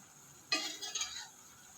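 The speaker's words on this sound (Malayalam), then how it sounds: "നന്നായിട്ടൊന്ന് ഇളക്കി മിക്സാക്കുക." A spoon stirs red banana stir-fry with curry leaves and a pinch of turmeric in a pan, giving a short burst of scraping and clinking against the metal that starts abruptly, runs for under a second, then fades.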